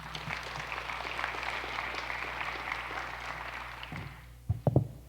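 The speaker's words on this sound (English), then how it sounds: "Thanks for the applause" An audience at a school forum on AP pathways claps steadily for several seconds, a dense wash of applause that fades out and ends with a few close thumps and taps.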